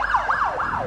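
A fire engine siren wails past on a Melbourne street, loud and close. Its pitch rises and falls in rapid, repeated sweeps with no talking.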